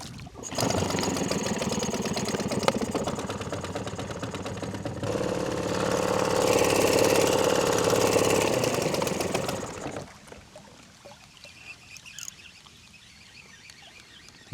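A small outboard motor on a fishing boat runs steadily and loud right after starting, idling at a constant drone for about ten seconds before cutting out, leaving quiet water and faint background noise.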